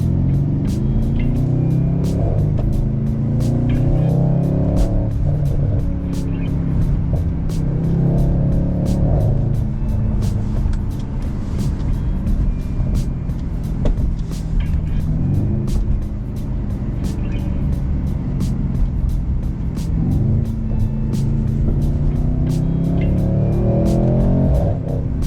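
Continuous loud Mercedes-AMG C63 S engine rumble with the exhaust note rising and falling in repeated revs, close and steady throughout.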